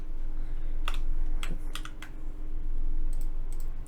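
Keys clicking in short irregular bursts on a computer keyboard while search terms are entered in Unreal Engine 5, fairly close and alone over a steady low background hum.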